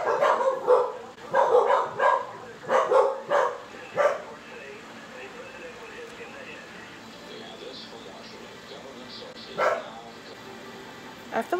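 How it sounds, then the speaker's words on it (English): Dogs bark in quick bursts, several sharp barks in a row, then a pause and one more bark later, fairly close and loud. "daggum dogs get to barking."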